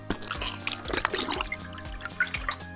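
Water at 85 degrees is poured into sourdough starter and flour, giving brief close splashes and trickling drips that come in uneven bursts, quiet and with no talk.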